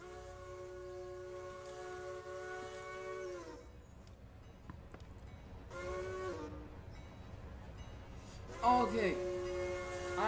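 Train in the Railroader railroad game sounding drawn-out horn or whistle blasts, three separate long tones with quieter rumbling gaps between them, against a steady low background.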